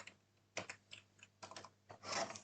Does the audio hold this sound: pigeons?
no